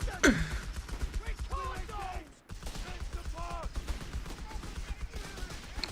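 Machine gun and rifle fire from a Company of Heroes 3 tournament match, with a sharp burst early on, then scattered shots and bursts running under steady commentary from people talking throughout.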